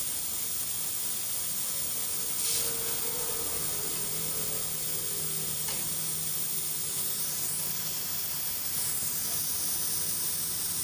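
A torch flame hisses steadily while heating the pipes of a Sanyo rack freezer refrigerator under repair, a continuous close rushing hiss with faint shifting tones and a couple of brief brighter flares.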